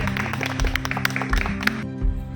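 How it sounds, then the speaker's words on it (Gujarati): An audience at a school results ceremony claps to welcome a student, a dense, steady patter of applause heard close, with a continuous low hum beneath. "જોરદાર તાળીઓથી સ્વાગત."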